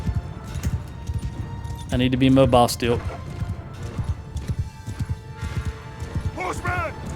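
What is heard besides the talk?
horse hooves in video game Mount & Blade II Bannerlord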